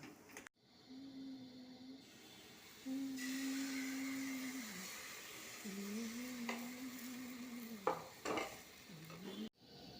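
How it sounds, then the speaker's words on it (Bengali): Coconut and jaggery filling for patishapta being stirred in a wok, soft scraping and light sizzle heard quietly, with a low droning tone running underneath and a few sharper knocks near the end. "কড়াইতে নারকেলটাকে ভালো করে গুড় দিয়ে পুরটা বানিয়ে নিচ্ছে"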